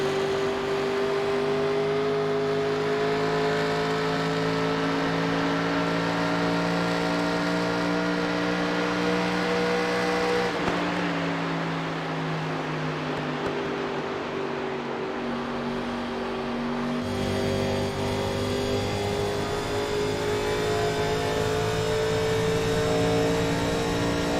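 Race car engine heard from an onboard gearbox camera during an all-star open race: a loud, sustained high-pitched whine with steady harmonics, dropping in pitch at a gear change and climbing again.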